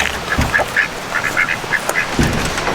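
Ducks on a windy farm give a burst of close, loud quacks in quick repeated bursts, while gusts of wind buffet the microphone throughout.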